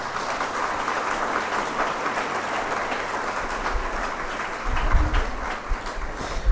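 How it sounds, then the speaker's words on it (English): An audience at MITS Gwalior gives a sustained round of applause for the chancellor, a dense steady clatter of many clapping hands that swells louder toward the end. "Give a big round of applause."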